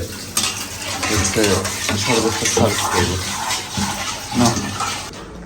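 Water is stirred into homemade sharbat by hand, with a spoon clinking and swishing against the container in a loose rhythm, close up, while a voice murmurs now and then.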